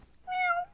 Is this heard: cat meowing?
yes